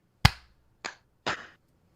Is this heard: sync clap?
yes